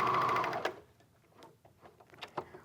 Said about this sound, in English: quilting them together just like we would be on a sewing machine